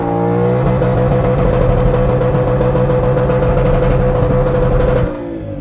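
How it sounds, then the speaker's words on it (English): A Ford Mustang GT500 engine holds a loud, sustained high rev during a line lock burnout, a steady close roar with harmonic drone and crackle that drops off sharply near the end. "I'm gonna floor these tires"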